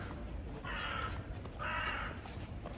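A crow caws overhead twice in harsh, drawn-out calls, each about half a second long, loud and close above a steady outdoor background hum, with no speech.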